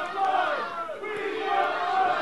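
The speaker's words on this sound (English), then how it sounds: "The crowd chanting, squeeze that head, squeeze that head." A wrestling crowd at a Southern independent show chants rhythmically, the repeated shouts rising and falling over a couple of seconds with the arena din around them, loud and close.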